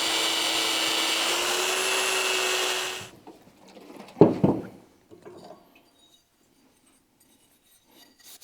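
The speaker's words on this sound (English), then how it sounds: "This is a stainless steel wire wheel that I use only on aluminum." A stainless steel wire wheel grinds aluminum on a snowmobile tilting trailer under repair, a harsh steady whir for about three seconds that cuts off, followed by a couple of brief scraping knocks and then quiet.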